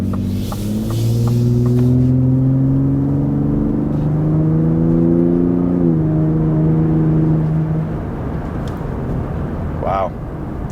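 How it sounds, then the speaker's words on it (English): A 2023 Ford F-150 Raptor in Baja mode drives with its 10-speed, the exhaust giving a loud, steady, rumbling drone that rises slightly in pitch and then eases off, heard from inside the truck. "This exhaust does get quite loud though"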